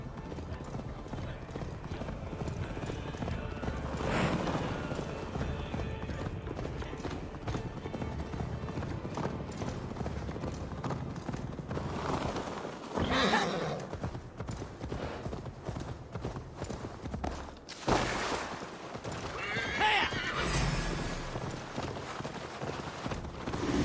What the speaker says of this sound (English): Faster, Eivor! Ride like Sleipner's hooves